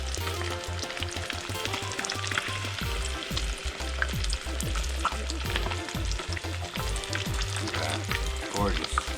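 Snapper fillet frying in a hot pan, a loud, steady sizzle that crackles on without pause.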